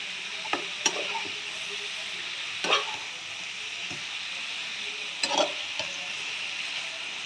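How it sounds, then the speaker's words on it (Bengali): Mixed vegetables sizzling in a hot pan with Kashmiri chilli powder, a steady frying hiss broken by a few sharp stirring scrapes and clinks, with no talk. "এগুলো ভেজে নেব কাশ্মীরি লঙ্কার গুঁড়ো"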